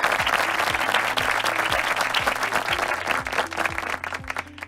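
Steady audience applause at a Nu Skin franchise business presentation, many hands clapping in a continuous patter with a faint rhythmic low thumping underneath, gradually thinning toward the end.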